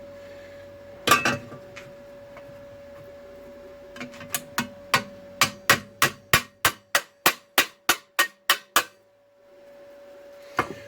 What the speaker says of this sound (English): I could really do with my little hammer, my little toffee hammer.